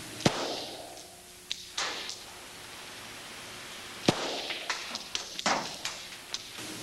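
SIG pistol fired at close range, several sharp sudden reports spaced a few seconds apart, with smaller clicks and thuds between them, fairly near and moderately loud without any talk.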